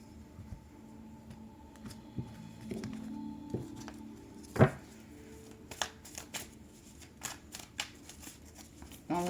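Tarot cards shuffled by hand in a short run of soft riffling and patting strokes, faint and close, with scattered light taps and rustles and no talk.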